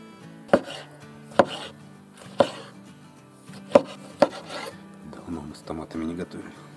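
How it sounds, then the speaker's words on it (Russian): Homegrown tomatoes cut with a knife on a board: five distinct close chopping thuds at uneven intervals, followed by softer slicing and rubbing, with a voice speaking in the background. "Так и нарезаем помидоры свои."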